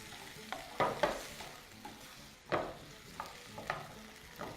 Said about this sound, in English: add your tomatoes. And then stir this.